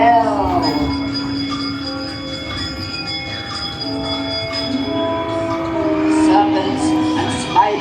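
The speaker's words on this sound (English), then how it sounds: "give us a hint by ringing a bell" A bell-like chime rings during the séance scene of Disneyland's Haunted Mansion ride, with sustained tones sliding and ringing amid a ride soundtrack and a murmur of voices.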